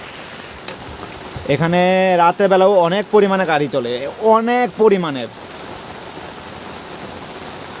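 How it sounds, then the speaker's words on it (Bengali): Night rain falls in Bangalore as a steady, even hiss that runs through the whole stretch, with someone speaking over it in the middle. "তোমরা দেখো বৃষ্টি।"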